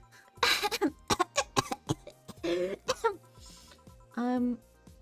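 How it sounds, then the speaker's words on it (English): A voice performs a series of short, harsh coughs and throat-clearing bursts for a character in the video game VA-11 Hall-A, ending with a drawn-out voiced grunt. The sounds are close and loud in a quiet setting. "And you're clearing your throat?"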